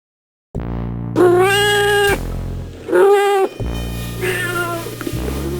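A cat meows loudly and close, several drawn-out, wailing meows in a row with short pauses between them, the calls rising and bending in pitch, with no talk over them.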